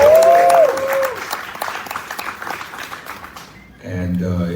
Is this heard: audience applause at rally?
yes